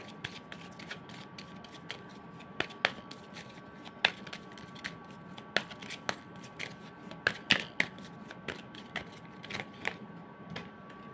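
Tarot cards are handled and shuffled up close, a run of crisp irregular flicks and riffling snaps over a quiet background with a faint steady hum.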